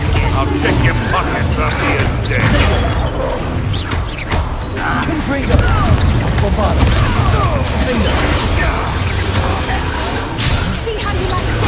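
Confringo blasting spell cast in the Hogwarts Legacy video game, with booms and crashing impacts amid a dense, continuous battle din while voices talk over the action.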